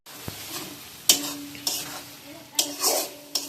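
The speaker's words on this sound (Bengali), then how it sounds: "মুরগিটা কষা কষা করব।" Chicken sizzles in a pan while a spatula stirs it, loud scraping strokes against the metal in an irregular rhythm over a steady frying hiss, heard up close with no talk.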